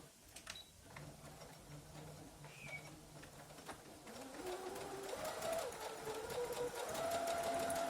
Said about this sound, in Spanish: Voy a hacer unas costuras de remate.